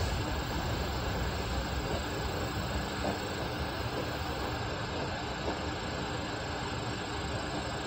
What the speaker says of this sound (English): It's a good train